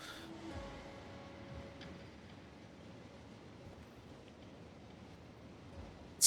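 A train in the Factorio Space Age game runs along its rails with a low, steady rumble, faint and even throughout and ending in a short sharp blip.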